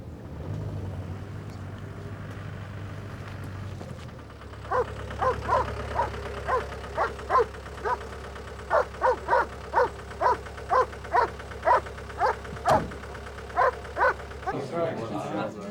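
A dog barks repeatedly in a steady run of sharp, evenly spaced woofs over a low background hum, fairly close and loud, with no talking during the barking.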